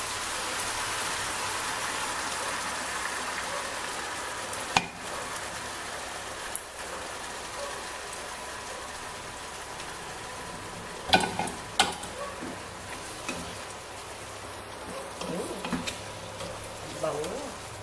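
Tinumis sizzles steadily in a hot pan as it fries, a constant crackling hiss broken by a few sharp pops and stirring clatters near the middle and end.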